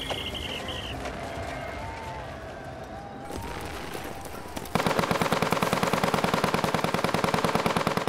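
Machine guns fire on the World War I Western Front among trenches and barbed wire in Belgium and France. A murky rumbling stretch gives way to loud, rapid, sustained bursts of automatic fire.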